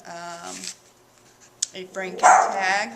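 A pet dog barks at someone outside a window, a few short sharp barks mixed in with someone talking close by.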